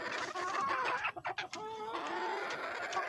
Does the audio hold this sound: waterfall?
no